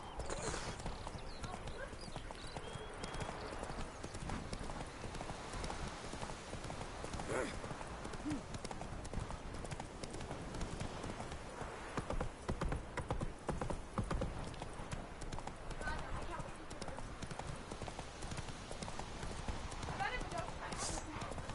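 Horse hooves galloping in a steady, rapid clip-clop rhythm across the Witcher 3: Wild Hunt game world, with an occasional whinny and a voice talking over the running hoofbeats.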